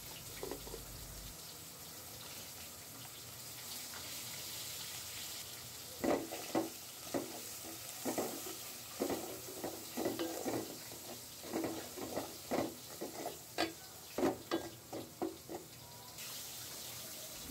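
Spice paste stirred and fried in a pan for a bean curry: a steady low sizzle with a run of rhythmic scraping stir strokes, close and fairly quiet, with no talk.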